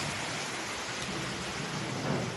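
Heavy rain pours down on a hot day, a dense, steady roar of downpour that fills the whole stretch, with a low rumble of thunder swelling slightly near the end.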